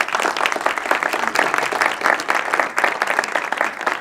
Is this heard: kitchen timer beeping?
no